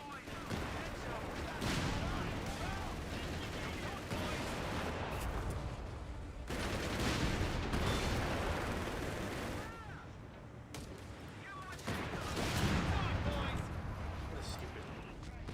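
Sustained gunfire and machine-gun bursts rattle through a war video game battle, dense and loud throughout with brief pauses between waves, while people talk over the shooting.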